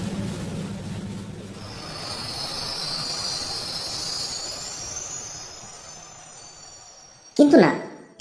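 A train rumbles steadily and slows as it arrives at Majhdia station at night, with a long high hiss of brakes, ending in a sharp, loud wheel squeal nearby.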